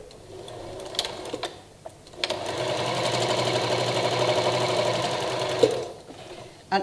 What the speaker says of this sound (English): And each time I'm sewing these seams